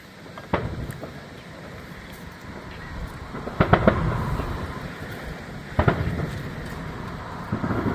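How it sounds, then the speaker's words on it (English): Fourth of July and bicentennial fireworks over Massillon, Ohio, watched from St. Mary's under a threatening thunderstorm, give distant booms and crackles scattered across a rumbling outdoor background, with a few sharper bursts standing out. "we down here at St. Mary's watching Massillon's fireworks"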